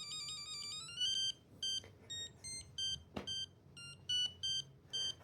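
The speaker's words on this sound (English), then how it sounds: "a buzzer is included also. This allows it to play different tunes that sound kind of like a ringtone from cell phones back in the day." An Apollo MSR-2 sensor's buzzer plays a ringtone-like tune of bright, electronic beeping tones: a rising sequence, then a string of short, evenly spaced chirps over faint background hum.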